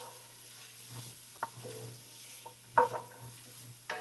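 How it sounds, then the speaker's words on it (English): Vegetables sautéing in a pot over medium-high heat for lentil soup, a soft low sizzle with occasional clinks and stirring scrapes against the pot, fairly quiet. "just let this kind of saute a little bit"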